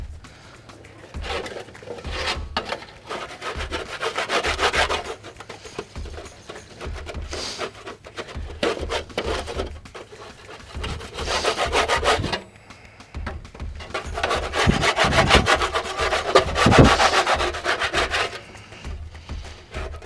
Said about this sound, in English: we want to scrape all the heavy off this